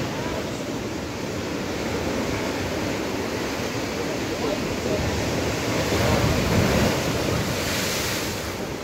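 Full-moon tidal bore waves surging along the Ganges river: a continuous loud wash of rushing, churning water with heavy wind noise buffeting the microphone, swelling slightly toward the end.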